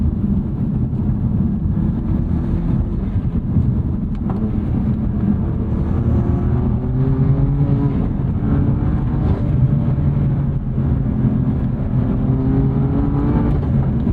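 A turbocharged BMW M2 Competition engine drones loudly and continuously, revs rising and falling in long sweeps, heard close from inside the car with no talking.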